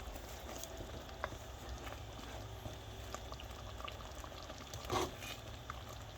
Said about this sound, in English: It's up to a boil